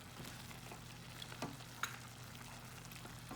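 Meat mixture thickened with cornstarch simmers and fries in a pan for a shepherd's pie, giving a low steady sizzle with a few faint stirring scrapes and clicks.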